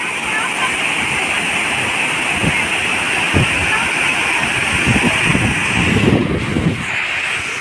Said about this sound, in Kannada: ಇದ ನೋಡು ನಮ್ಮ ಜಲಪಾತ